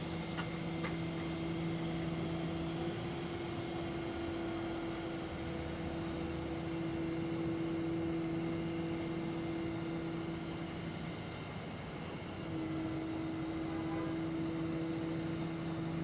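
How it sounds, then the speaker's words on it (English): Hydraulic drive of a roll-off tow truck rolling its bed back, a steady droning motor hum with a constant whine, moderately quiet and unbroken, no talk. "all you're going to do is roll the bed back. It's a very simple operation to tow vehicles on a roll-off."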